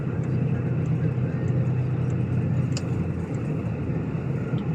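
Car with a 16-year-old body rolling slowly along a salted, puddled village street in winter, a steady low engine and tyre rumble from inside the cabin, with someone talking over it.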